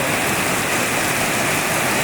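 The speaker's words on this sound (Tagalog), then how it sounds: "Sobrang lakas ng ulan." Heavy rain pours down in a dense, continuous roar, loud and close, with no voices.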